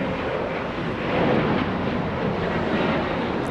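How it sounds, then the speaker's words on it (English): A Delta Boeing 767 jet airliner taxis for departure at Los Angeles International Airport, its engines giving a steady, moderately loud roar mixed with some wind noise. "Delta 272 Wow. flying to Lisbon, a big 767 taxiing for departure"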